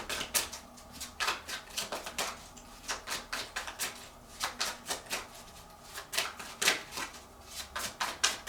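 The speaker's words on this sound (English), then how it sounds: "I'm gonna keep pulling cards here." Tarot cards being pulled and shuffled in a reading, a steady run of soft, quick papery flicks and riffles, close and fairly quiet with no speech.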